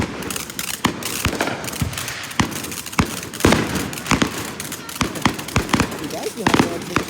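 Fireworks bang and crackle in a rapid irregular series of sharp, loud bursts, some close together like a barrage, with people talking in between.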